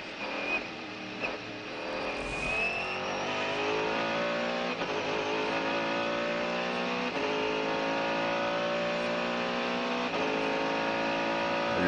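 A naturally aspirated Mercedes V8 in the Mercedes-Benz CLR race car screams at full power, its high pitch climbing steadily, loud and sustained, with brief shifts and a near, continuous roar.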